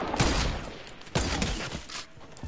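An odd-sounding gun in the video game Arsenal fires in two or three rapid, loud bursts with brief gaps between them. Each burst has a harsh, crackling attack.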